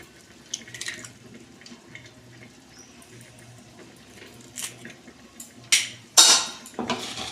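Chilli soybean chunks being mixed with egg in a bowl by hand, a few soft wet squelches and clinks of the bowl, irregular and close, ending in louder bursts of handling.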